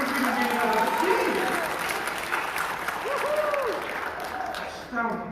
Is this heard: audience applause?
yes